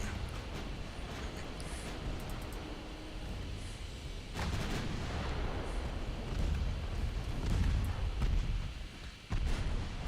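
Warship guns firing in the naval game Ultimate Admiral Dreadnoughts: repeated deep booming salvos rumble over a constant low roar, with several sharp blasts standing out in the second half.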